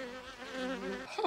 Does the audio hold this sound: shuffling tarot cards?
no